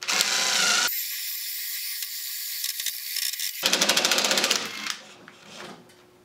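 A cordless drill bores holes at slow speed, pushed near its limit and running hot, with a loud steady whir that shifts in pitch and turns into a pulsing, chattering grind before winding down.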